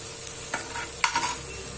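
Pizza topping being stirred and cooked in a pan, with a steady soft sizzle and two brief scraping stirs of a spoon, close and fairly quiet, with no talking.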